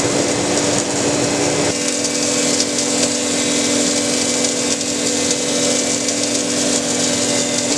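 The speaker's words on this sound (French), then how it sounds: "Rabotage" A power planer running steadily on Douglas fir boards for a garden shed door, giving a continuous loud high-pitched whir with a strong tonal hum and no pauses.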